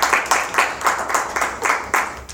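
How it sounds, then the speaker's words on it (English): An audience at an Esperanto celebration event claps in quick, fairly regular beats, a short burst of applause that sounds close and moderately loud, with no talking over it. "big round of applause"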